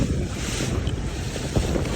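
Steady wind buffets the microphone on a sandy beach at Chao Samran while sea fishing with live shrimp bait, a continuous low roar mixed with surf, no voices.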